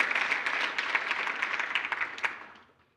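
An audience at an award ceremony claps steadily for an award recipient, a dense, moderately loud round of applause that fades out over the last half second.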